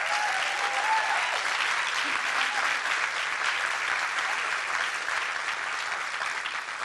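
A large audience gives a sustained round of applause at a civic event, thick even clapping held at full strength throughout with a faint voice briefly audible early on.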